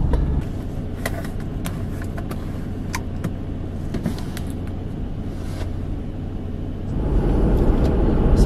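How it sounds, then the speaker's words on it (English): A car drives along with a steady low road rumble and engine drone, with scattered sharp clicks and rattles from vibration, growing louder and rougher near the end. "I wonder how much of, car vibrations it's gonna pick up."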